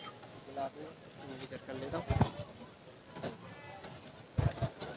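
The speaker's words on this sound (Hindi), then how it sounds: "ये बकरी है जिसके साथ दो बच्चे हैं।" Goat bleats rise in short bursts amid the crowd noise of a busy goat market in Karachi, a few brief cries breaking through a steady murmur of people talking.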